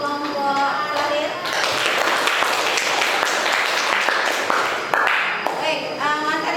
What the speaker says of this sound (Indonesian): sekali lagi kita kasih aplaus untuk kelompok lahir